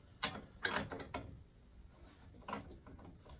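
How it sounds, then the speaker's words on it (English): A lathe tailstock presses a wooden chisel handle onto its ferrule with no glue, producing a few sharp mechanical clicks and creaks, then quieter ticking with a second cluster of clicks near the end. "I'm just going to use the pressure off the tailstock to press it on there"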